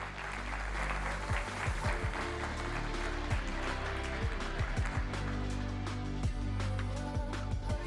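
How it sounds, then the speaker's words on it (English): Conference audience applauding steadily, a continuous wash of many hands clapping at moderate distance, with a low hum and a few nearby knocks underneath. "And that's your applause."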